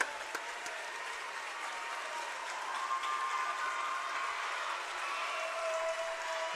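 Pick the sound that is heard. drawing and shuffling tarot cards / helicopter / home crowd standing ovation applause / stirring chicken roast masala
home crowd standing ovation applause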